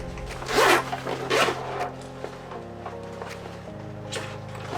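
A backpack's main compartment zipper with Hypalon pulls is opened in two quick, loud, close zipping strokes, followed by quieter handling and rustling.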